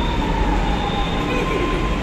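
A metro train rumbles into an underground station, a loud, steady roar with faint wheel squeal and a thin high whine running throughout.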